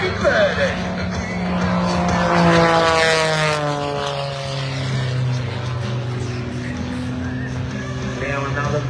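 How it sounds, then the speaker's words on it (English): An aerobatic propeller plane with a 540 cubic inch engine roars at an airshow, its pitch sliding steadily as it climbs and passes. The engine drone is loud and continuous, with a commentator talking over it. "Now another vertical climb in this 540 cubic inch plane."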